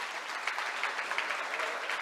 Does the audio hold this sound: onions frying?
no